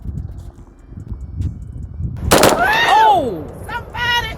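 A scratch-built homemade gun fires a burst of shots outdoors. A sharp loud crack is followed by ringing, falling echoes, and a short rattling clatter comes near the end.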